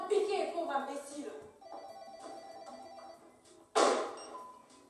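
A telephone rings in a domestic scene from a Congolese film, its bell sounding under and between voices, with a louder burst near the end.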